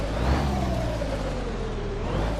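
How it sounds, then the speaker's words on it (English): Engine of a Freightliner Classic truck in a trucking video game, a loud, steady low diesel drone with a slowly falling whine layered on top, close and continuous with no talk. "The truck's a little bit loud."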